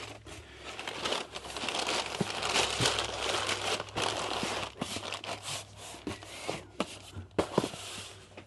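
Lightweight packing paper is crumpled by hand while orders are packed, giving a steady, close crinkling rustle with scattered sharper crackles and no talking.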